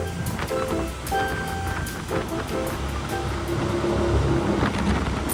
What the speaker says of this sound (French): on est allé faire du jetboat et c'était hyper fun